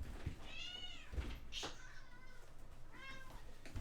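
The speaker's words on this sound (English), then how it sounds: "Hey, Kitty, get out of there" A house cat meows repeatedly indoors, three drawn-out cries close to the microphone, with a soft knock or bump between the first two, no speech.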